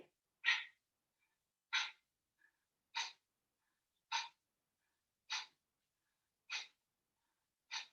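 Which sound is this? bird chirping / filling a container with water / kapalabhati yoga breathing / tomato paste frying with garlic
kapalabhati yoga breathing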